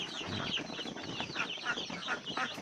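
Four-week-old Roman Brown laying hens on a farm in hot weather cluck in short, repeated calls, several overlapping birds heard fairly close with a soft background hum.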